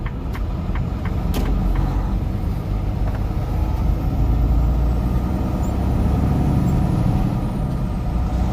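A delivery truck's engine rumbles under throttle on the road in Riverside, California, a steady loud low drone heard from inside the cab, with a few brief clicks and knocks early on and no talking.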